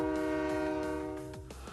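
Train horn from the Blue Archive video game as a train starts, one loud sustained blast with rhythmic wheel clacks beneath it, the horn fading near the end.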